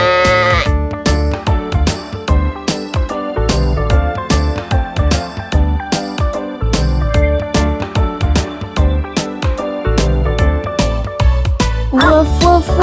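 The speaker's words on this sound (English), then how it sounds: "The sheep jump around going, Ba, ba, ba." Sheep bleating repeatedly over a busy, loud musical backing with steady beats, the bleats blending into the dense song.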